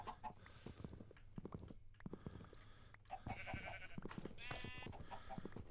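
Farm animals in the game Minecraft, chickens clucking and sheep bleating, with short repeated calls overlapping at moderate volume, some nearer and some farther, and no speech.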